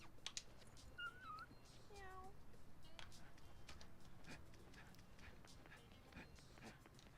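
Several cats meow in the video game No More Heroes, short rising cries scattered over the first few seconds at moderate distance, with soft shuffling steps and faint background noise continuing beneath.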